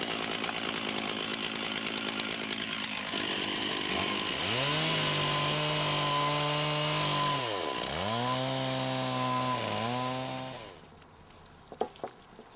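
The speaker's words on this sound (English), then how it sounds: "I'll take my chainsaw and roughly shape it with the chainsaw" A chainsaw roughly shapes a block of wood for a bowl. The engine holds a loud, close, steady buzz, dips in pitch twice as it bites into the wood, then cuts off near the end.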